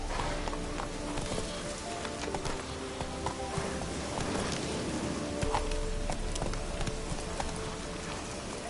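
Horse hooves gallop in a PS4 video game, a rapid drumming clip-clop under faint rain-like noise and background game sound, steady and fairly quiet throughout.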